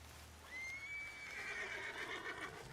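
A horse in the video game Red Dead Redemption gives one clear, drawn-out whinny that rises and trembles before trailing off, alone against quiet background noise.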